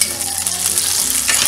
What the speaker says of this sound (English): we're going to preheat the pan and add the butter.